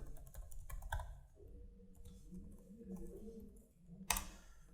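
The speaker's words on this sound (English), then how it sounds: "So I will quickly log on using my email address. Add in my password." Computer keyboard typing an email address and password, a quiet run of light clicks and taps with short pauses between bursts and a sharper click near the end.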